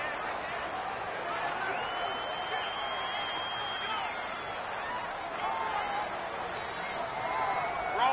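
Loud home stadium crowd at an NFL game, a continuous dense roar of many voices that swells near the end, with occasional whistles and shouts rising above the din.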